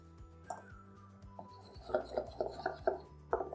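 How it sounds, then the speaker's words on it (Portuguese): Whisk beating flour mix into gluten-free carrot and coconut cake batter in a bowl, a series of close, rhythmic scraping taps that quicken toward the end, with no talking. "Aí, com o fouet, eu vou misturando."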